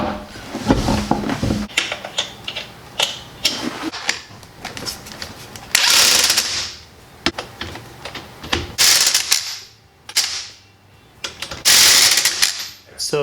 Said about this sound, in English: I'm going to go ahead and bolt the wheel back up, use my impact